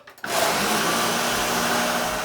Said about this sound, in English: Boo Berry cereal in blender and some milk and blend it up